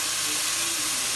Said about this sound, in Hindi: चूल्हा बंद करके ना फिर तड़का लगाना है।